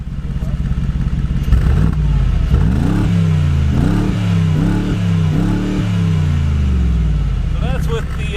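A 2019 Mercedes-Benz G550 engine revs repeatedly with exhaust baffles open, throaty, rising and falling in several loud bursts over a constant rumbling idle, close by.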